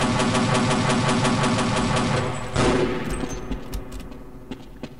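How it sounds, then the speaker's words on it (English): A machine gun in Half-Life: Hazardous Course fires a rapid, steady stream of shots for about two seconds, then stops. A low engine-like hum and a few scattered clicks continue faintly afterward. "Weakest machine gun ever."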